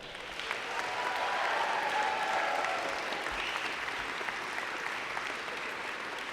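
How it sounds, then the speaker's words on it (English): Graduates at a university convocation ceremony applaud their families, friends, faculty and staff, a broad steady wash of clapping from a large hall that holds evenly throughout at a moderate distance. "reciprocate by applauding your family, friends, faculty, and staff"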